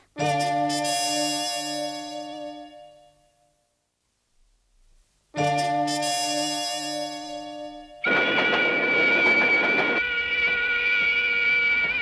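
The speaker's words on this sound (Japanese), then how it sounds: "最終列車だ。" A loud, ringing tonal blast sounds twice with a quiet gap between, then a dense mechanical rushing rumble of a train takes over at close range.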